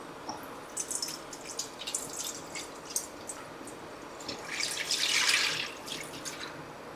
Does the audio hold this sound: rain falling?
no